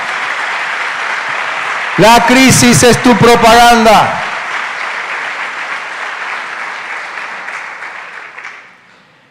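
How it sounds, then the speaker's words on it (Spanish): Church congregation breaks into applause for about two seconds, loud and dense, after a preacher's sermon line, then the preacher resumes speaking over the fading room. "¿Cuántos le dan un aplauso al Señor?"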